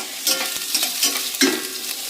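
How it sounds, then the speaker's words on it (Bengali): Potatoes fry in hot oil for a vegetarian potato curry, a continuous close sizzle broken by scraping stirs of a spatula in the pan, with no one talking. "যাক, ভাজা প্রায় শেষের দিকে।"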